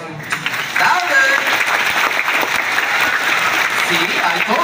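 An audience claps its hands steadily at a sea lion marine patrol show at Ocean Adventure in Subic Bay, with dense, continuous applause filling the whole stretch and some voices mixed in.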